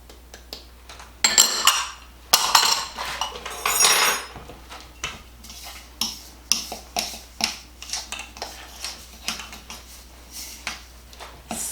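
A utensil stirring brown sugar, cinnamon and flour in a bowl, with bursts of scraping followed by a steady run of light clinks and taps against the bowl, close and alone.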